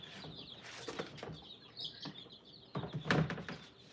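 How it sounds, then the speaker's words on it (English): Small week-old quail chick giving thin, high chirps in short bursts, close by, with a louder cluster near the end and some handling rustle around it. "This is a baby quail."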